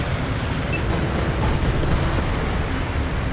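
Missile explosions in an aircraft combat video game make a loud, continuous rumbling roar of blasts and booms that runs without a break, with no speech.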